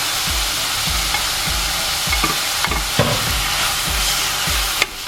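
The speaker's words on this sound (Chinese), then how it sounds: "锅中倒入少量的油，煸肉馅，把肉馅的水分煸出去。" Ground pork sizzles in a little oil in a wok while a spatula stirs and scrapes it in a steady rhythm, loud and close, with the moisture frying out of the meat.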